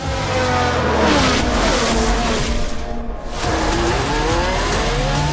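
Racing cars in the F1 Manager 2023 game scream past one after another, loud revving engines sweeping up and down in pitch with brief gaps between passes.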